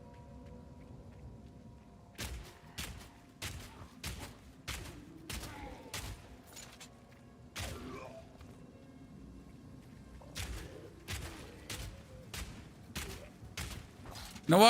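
Crossbow shots in a witch campaign video game: a long series of sharp, snappy twangs fired in quick rhythmic runs with short pauses between volleys, moderately loud over a quiet background with faint thuds.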